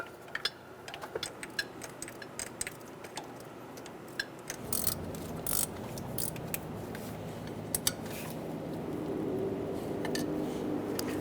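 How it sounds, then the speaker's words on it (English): Bolts being snugged down by hand on a 2003-2008 Honda Pilot knock sensor, heard as faint, scattered metallic ticks and clicks from a tool, quiet and close, with no one talking. "Go around and snug all of the bolts down."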